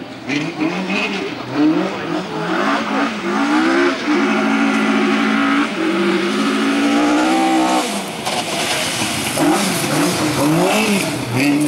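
A race car at a hill climb at Vikersund, Norway, drives in loud and close, its engine revving up and down through repeated gear changes with climbing and falling pitch, briefly easing before accelerating again.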